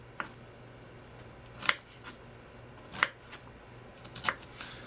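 Knife dicing summer squash on a cutting board, sharp isolated chops landing a second or more apart, each a crisp close tap over a quiet steady room hum.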